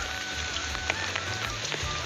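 Steady rain patters on a surface, a dense, even hiss with scattered drips, moderately close and continuous.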